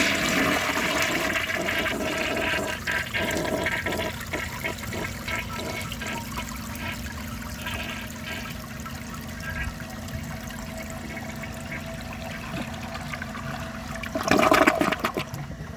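A 1975 Kohler Highline toilet gives a long rushing flush that drains into a steady trickling refill, ending with a brief gurgling surge as the bowl settles.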